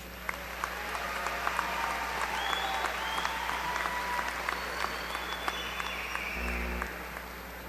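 A commencement audience at Angelo State University claps steadily for newly named graduates, an even, full-room burst of applause that holds throughout before easing off at the very end.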